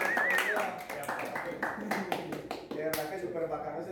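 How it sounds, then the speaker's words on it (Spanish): An audience applauds the leaders at a gathering: a run of distinct, close hand claps at an uneven rhythm, some crisp and some softer, with a voice talking over them near the start. "un aplauso para George, para Sandra, para todos los líderes, Spencer, todos los señores que han venido."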